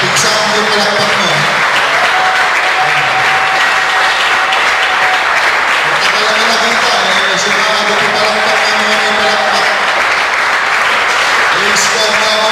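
A church congregation applauds together during a Sunday service: dense, sustained clapping fills the whole stretch, with voices and tonal music-like sounds running over it.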